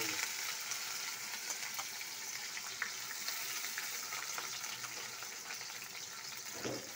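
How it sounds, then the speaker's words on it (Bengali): Sliced onions fry in hot oil in a pan, a low, even sizzle with occasional light pops, fairly quiet and without speech. "তেল গরমের মধ্যে পেঁয়াজ ডালা হচ্ছে"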